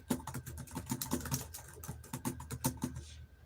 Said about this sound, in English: I am typing in a survey.